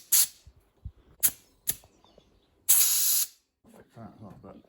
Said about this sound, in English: Pumping air out.